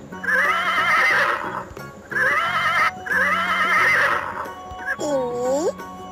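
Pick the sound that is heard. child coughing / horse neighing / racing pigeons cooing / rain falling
horse neighing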